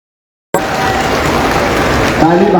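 Crowd applause at a political rally in Nagda, a dense continuous clatter of clapping that starts abruptly and holds steady, with a voice rising over it near the end.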